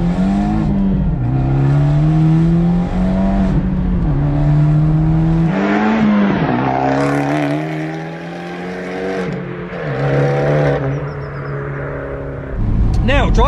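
An Abarth 124 with a sport cat exhaust driven hard, its engine revving loudly up through the gears with rising and falling pitch, shifts and a pop on the change, heard close and continuous.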